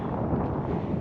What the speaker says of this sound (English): It is very cold right now. The wind is just blowing,